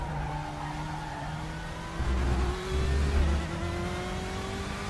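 A BMW M8 GTE race car engine in the RaceRoom racing game drones steadily at high revs, loud and close, with a brief surge of throttle midway and faint tire noise, no voices over it.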